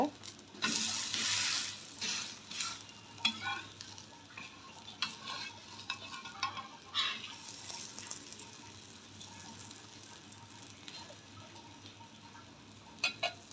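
Rice-flour roti made with drumstick leaves sizzles softly on a hot pan after being flipped, with scraping and clinking of a spatula in close bursts over a low frying hiss.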